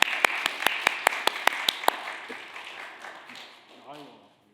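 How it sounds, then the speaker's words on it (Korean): A church congregation marking its anniversary service claps to welcome a guest preacher, a short run of crisp, evenly spaced claps that soon blur into softer applause and fade, with a voice speaking near the end. "우리 박수로 환영하고 하나님께 감사로 영광 돌리겠습니다"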